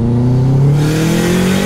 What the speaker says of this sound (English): I did go with an external wastegate, and I knew it was gonna be louder.